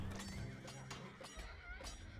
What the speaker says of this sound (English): Oh, the horses. The horses.